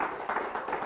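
Studio audience applause on a television sports chat show, a steady dense wash of many hands clapping at fairly close range, swelling slightly in waves with no talk over it.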